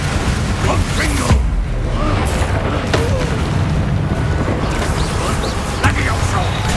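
A Confringo blasting spell explosion in Hogwarts Legacy on PS5: a loud boom near the start, then continuous dense rumbling and crashing effects at high level throughout, with faint voices mixed in.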